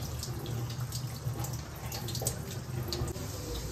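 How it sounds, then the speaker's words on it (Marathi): Running water at a kitchen sink while flattened rice (poha) is rinsed, a steady splashing stream that stays constant throughout. "मी आता इथे पोहे निवडून धुवून घेते."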